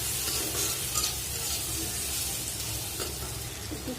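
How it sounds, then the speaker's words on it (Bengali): Tomato, turmeric and chili spices lightly frying in a pan, a soft steady sizzle with occasional stirring scrapes, fairly quiet and without talk. "একটু হালকা ভাজা ভাজা করবো"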